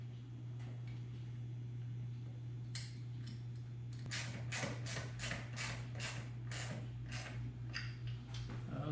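A socket wrench ratchets as nuts are tightened onto a wind screen bracket in a C5 Corvette convertible, giving a run of quick, close clicks over a steady hum.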